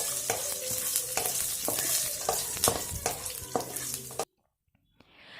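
Coriander seeds and green chilies fry in a crab masala pan with a steady close sizzle, broken by repeated stirring scrapes, before cutting to near silence at the end.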